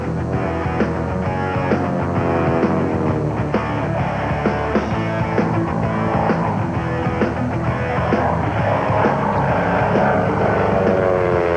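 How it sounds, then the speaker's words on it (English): Aircraft engines roar overhead at an air show, a dense continuous drone with propeller buzz, loud and steady throughout with no voices. "Overhead, the roar of engines."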